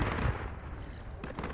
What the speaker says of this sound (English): I think I died by your grenade